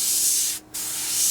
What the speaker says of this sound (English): It seems to be a bit more, seems to be spraying as if the paint's a bit on the thick side